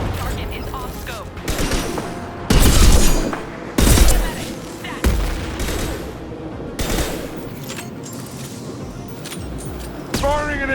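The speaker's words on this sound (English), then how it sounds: "Firing an impact shot!" Gunfire and impact shots ring out in the Mass Effect 2 video game, heavy booming blasts and rapid bursts cutting in and out amid a busy, loud battle mix, with voices calling out between shots.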